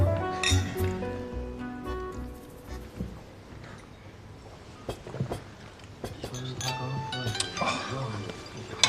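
Glasses clink together in a toast at a formal gathering, a few sharp bright chinks standing out over conversation and background sound.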